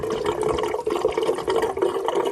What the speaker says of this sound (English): And see how that water's coming out of there?